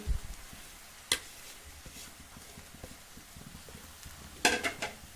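Faint sizzling in a pan under quiet room noise, with two sharp clinks of a utensil stirring, one early and a cluster near the end.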